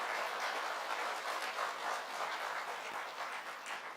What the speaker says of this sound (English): May I have a big round of applause for Ms.